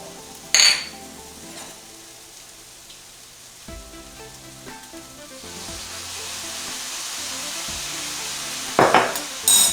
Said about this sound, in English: once your peppers and onions have had a chance to cook down a little bit